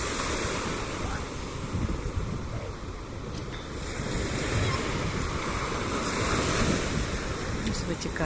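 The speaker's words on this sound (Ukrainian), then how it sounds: "перша хвиля розбивається в ці каміння" Sea waves break against coastal rocks and wash back in a steady, loud roar of surf. Wind buffets the microphone throughout, and no voices are heard.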